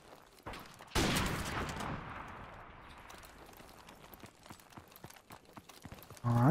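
Sniper rifle fire on the Beachbog map in Modern Warfare Remastered free-for-all: one loud sharp crack with a long decaying echo, followed by faint footsteps and game noise, then another burst at the end.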